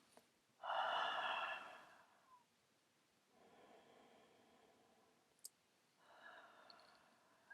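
Heavy, throaty breaths after holding the breath, a loud rasping inhale followed by softer, longer breathing and a final exhale, close to the mic with no talking.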